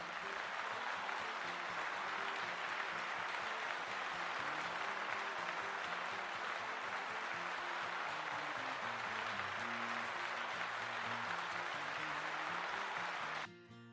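A sustained round of applause from a crowd, steady and even for its whole length, with a music bed running underneath before it cuts off abruptly at the end.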